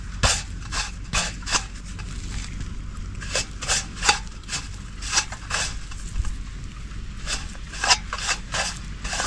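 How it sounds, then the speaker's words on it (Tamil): Masala is rubbed by hand into quail meat, making close, repeated scratchy rubbing and squishing strokes in an uneven rhythm, with no speech. "நம்மளோட காடை எடுத்து போட்டு நல்லா வந்து மசாலா சார மாதிரி எல்லாத்துக்கும் தேய்ச்சி போட்டு எடுத்துக்குவோம்."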